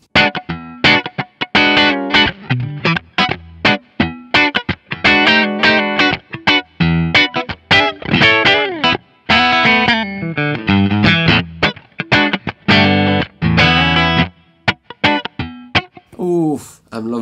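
A loud, distorted electric guitar played hard, with choppy, forceful chords and riffs in quick bursts.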